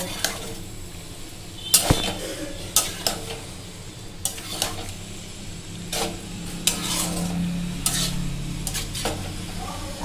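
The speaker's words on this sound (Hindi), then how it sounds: "अब जाएगा इसमें मैक्रोनी। अब यहाँ है मैक्रोनी," Macaroni goes into a cooking pan and is stirred, with repeated scraping strokes of a spoon against the pan over a soft sizzle, close and fairly loud.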